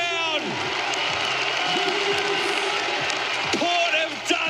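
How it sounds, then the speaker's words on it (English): Crowd at an AFL football match roaring and applauding after Port Adelaide's win, a broad sustained cheer heard over a radio broadcast, with a commentator's voice rising above it at times. "Have a listen to the crowd."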